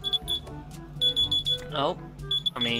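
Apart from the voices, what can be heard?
kitchen timer alarm for pizza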